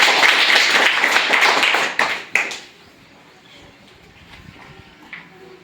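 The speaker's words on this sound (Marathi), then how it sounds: "टीचरसाठी टाळ्या वाजवायच्या" A class of children at a Zilla Parishad primary school in Khalane claps for their teacher during a school quiz: a loud, dense burst of applause for about two seconds that breaks off abruptly, leaving a quiet room.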